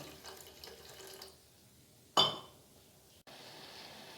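Water poured from a vessel into a pan of marinated chicken pieces on a stove, one brief close splash and pour lasting under a second, with faint kitchen sounds before and after.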